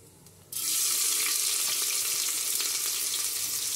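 Chopped onion and broken red chillies dropped into hot oil in a pan, a loud sizzle that erupts abruptly half a second in and continues as a steady, close frying hiss.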